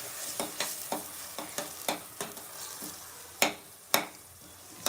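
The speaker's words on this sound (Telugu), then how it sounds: "ఇప్పుడు ఈ ఆనియన్స్ మంచిగా ఫ్రై అవ్వాలి. మంచిగా ఫ్రై అయ్యే వరకు ఫ్రై చేసుకుందాం." Onions frying in a pan for a home-style chicken curry, with a steady sizzle broken by regular scraping stirs and two sharper utensil knocks near the end; no voices.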